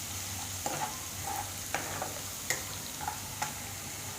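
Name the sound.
ginger and garlic frying in oil while stirred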